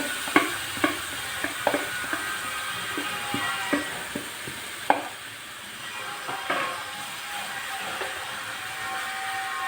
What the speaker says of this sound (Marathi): आता या तुपामध्ये चांगला मस्तपैकी गाजर शिजवून घ्यायचे आहे